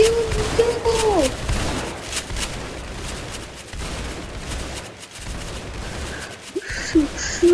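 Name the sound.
gunfire in Roblox Tower Defense Simulator video game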